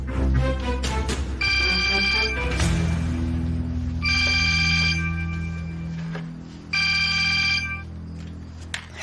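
Telephone ringing on a call being placed, three electronic ring bursts spaced evenly apart, each a bright warbling tone over a low background hum.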